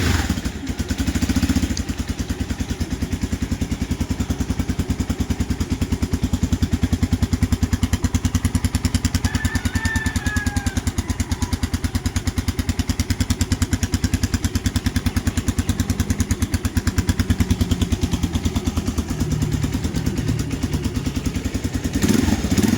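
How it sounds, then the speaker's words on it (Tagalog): A 2025 Rusi KR-Y 200 motorcycle engine starts and runs, its loud, steady, rattling idle thumping close by for the full length without talk. "Atong start ang motor o mag sound check ta."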